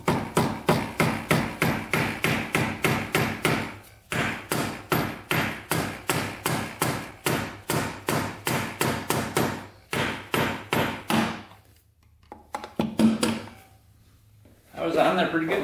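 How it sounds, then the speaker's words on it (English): Sharp, steady hammer-like strikes of a screwdriver against a part on a Honda 400ex ATV, loud and close in fast even rhythm, pausing briefly then resuming before stopping, with a few faint clanks after. "Might have to hit right here with the screwdriver."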